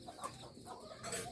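A hen clucking beside her chicks in a Bengal village, a few soft, close, short clucks with faint peeping, quiet overall.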